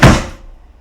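A single heavy thud of a door slammed shut indoors, close and loud, with a short decaying rumble after and no other sound.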